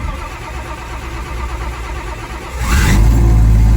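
A turbocharged Slant Six car engine cranks for a few seconds with a rough, rhythmic churn, then catches suddenly and bursts into a loud, steady running roar.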